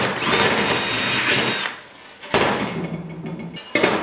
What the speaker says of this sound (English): I'm gonna drill a 1/4-inch hole on the mark.